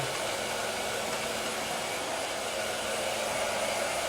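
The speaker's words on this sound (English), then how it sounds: "Maybe I'll grab the blow dryer just for a few seconds here" A blow dryer runs steadily and loudly at close range for the whole stretch while drying freshly cut short layered hair, a constant even whoosh with no talking.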